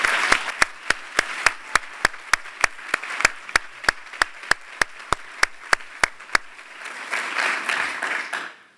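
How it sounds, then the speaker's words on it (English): Audience at Stanford's 3 Minute Thesis 2025 competition applauds honorable mention finalists: a run of sharp, evenly spaced claps in a steady beat, then a softer, broader swell of clapping near the end. "please stand up so we can applaud you."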